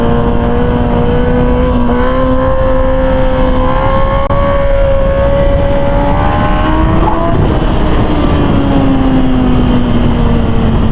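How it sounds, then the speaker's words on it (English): Suzuki GSX-R sport motorcycle pulling a wheelie, its engine held at a steady high rev and then rising and dipping in pitch, loud and close with strong wind rush and no talking. "let me try a decent little wheelie here"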